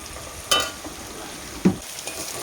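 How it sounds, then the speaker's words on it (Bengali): Cauliflower frying in hot oil with turmeric, a sizzling hiss with two sharp bursts of spatter and stirring, close and moderately loud, with no talking. "তো কপি ভাজা হয়ে গেছে"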